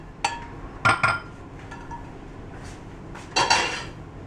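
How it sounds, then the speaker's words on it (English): Glass commercial canning jars with one-piece lids are handled on a hard surface, giving a few sharp clinks and knocks in separate bursts with quiet gaps between them, close and fairly crisp, without talk. "Now these are like commercial canning jars and lids."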